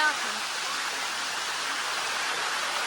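Water pours steadily down Sticky Waterfall near Chiang Mai, Thailand, a loud, even rushing wash that stays constant throughout without a break.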